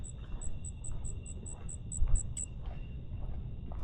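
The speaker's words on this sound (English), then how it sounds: "I do hear the crickets." Crickets chirping in a steady, evenly spaced high pulse over a low outdoor rumble in Dallas, with faint distant plane, train and traffic noise.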